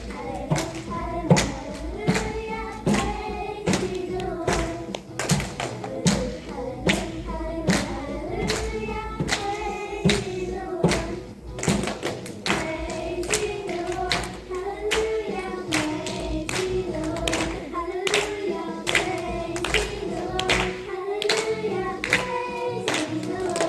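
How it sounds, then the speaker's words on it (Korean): A church congregation at Sunday worship claps together in a steady rhythmic beat over singing and music, the many hands sounding full and close throughout. "함께 박수 치면서"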